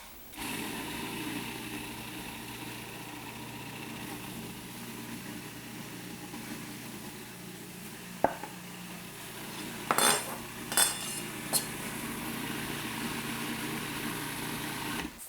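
A food processor shreds pineapple together with carrot, running as a steady low motor hum throughout. A few sharp clicks and rattles of the machine break through near the end.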